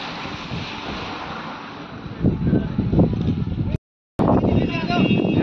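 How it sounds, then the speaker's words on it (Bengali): Strong wind at about 13,000 to 15,000 feet in snowy mountains near Nathula, buffeting the microphone as a steady loud roar that swells partway through and cuts out briefly, with no talk over it. "হাওয়াটা দিচ্ছে, হাওয়াটা চরম"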